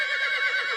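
A horse neighs in one short, high, wavering whinny, close and clear, with nothing else around it.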